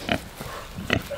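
Pigs on a farm give two short grunts about a second apart, close and fairly quiet, with only faint background noise between them.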